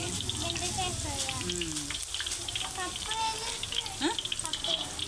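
Okra frying in a pan makes a dense, continuous crackle and sizzle like rain on a surface, while a voice talks over it throughout.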